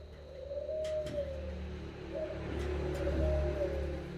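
A male spotted dove coos several times, its soft hooting phrases repeating over a steady low hum in the background.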